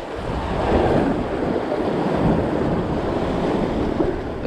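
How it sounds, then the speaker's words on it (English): Ocean waves crash against a rocky jetty beside a lighthouse, giving a loud, continuous surging roar with gusts of wind buffeting the microphone and no voices. "Wait till the waves calm down."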